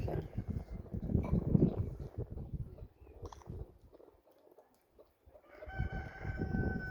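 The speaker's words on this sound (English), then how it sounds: "The chickens are busy now." Chickens clucking and a rooster crowing amid a busy farmyard, with some rustling and low noise; the birds fade briefly before picking up again.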